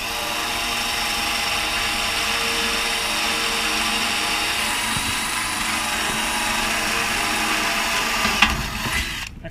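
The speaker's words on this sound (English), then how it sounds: "I'm going to do it in a cobalt bit drill." A power drill fitted with a brand-new cobalt bit runs during a hitch rack light install on a KTM hauler. It makes a loud, continuous whine close by, steady until it winds down at the very end.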